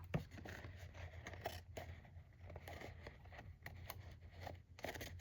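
Scissors cutting a paper craft tag, heard as several quiet, faint snips and scrapes spread over a few seconds with no talking.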